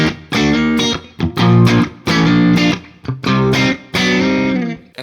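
A chord progression is strummed on a heavily distorted electric guitar, with four or five sustained chords separated by brief gaps, loud and close, and no talking.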